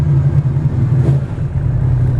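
Yamaha MT10SP motorcycle with an aftermarket Akrapovič slip-on exhaust, a loud, close, low engine burble with small rises in revs and no talk over it.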